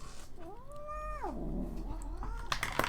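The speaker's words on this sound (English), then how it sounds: "I have a problem. My cat's on the mouse." A cat yowls loudly while sitting on a computer mouse, one long rising-and-falling meow that slides down into a low growl, then a second shorter call follows, close to the microphone.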